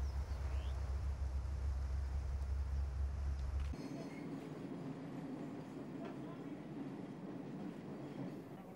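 A classic train runs through the African countryside, its steady low rumble loud for the first few seconds, then dropping to a quieter, continuous rolling with a faint squeal of wheels.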